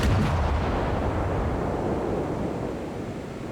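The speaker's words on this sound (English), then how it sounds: "I carelessly fire my broadside in front of him rather than on him" A warship's artillery broadside in a naval battle video game: a heavy, booming blast at the start that rolls out into a long, fading rumble.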